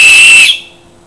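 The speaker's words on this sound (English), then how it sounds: "It also has a whistle built in." A single shrill blast from a small plastic whistle built into a glow stick survival light, loud and close, lasting about half a second before cutting off into quiet.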